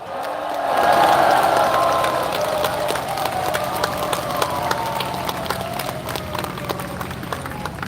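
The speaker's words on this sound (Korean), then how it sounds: "큰 박수와 환호를 보내주시기 바랍니다" A festival crowd at the Naju Yeongsan River Festival applauds and cheers, a dense, sustained wash of clapping that swells early and then holds steady, with a voice briefly audible over it.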